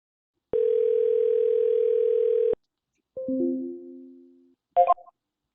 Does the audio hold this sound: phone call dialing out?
yes